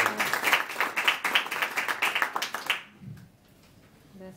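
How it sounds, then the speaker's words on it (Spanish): Audience applause at a talk, steady rhythmic clapping for nearly three seconds that then stops abruptly, leaving quiet room sound and a soft tap at the end. "así que después le podemos dar un aplauso."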